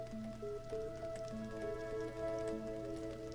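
Steady rain falls in Stonehearth, a constant soft patter under a continuous low musical drone with plucked notes, no talk.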